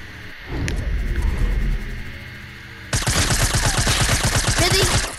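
Sniper rifle fire in a shooter video game: a quieter stretch first, then a loud, dense rapid run of gunfire that continues to the end.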